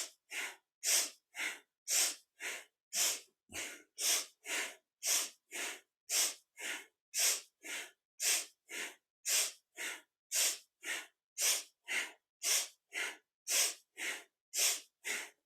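Kundalini yoga kriya breathing with about two dozen forceful, evenly spaced breaths, each a sharp breathy rush through the nose, close and steady in a quick rhythm with no talking.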